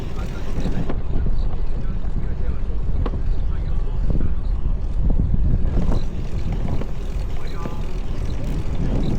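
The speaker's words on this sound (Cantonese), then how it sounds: "哇！ 好大風啊！" Heavy, blustery wind buffets the microphone of an Ace Pro 2 action camera on a fast-moving bicycle in a low, rumbling roar, with voices faintly talking underneath.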